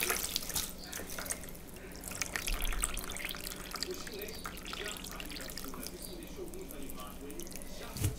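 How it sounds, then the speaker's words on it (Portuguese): Water drips and trickles steadily from a soaked crochet table runner being wrung out to drain, a continuous wet patter close by with soft handling noises throughout. "Molha bem. Molha bem. Deixa escorrer bem."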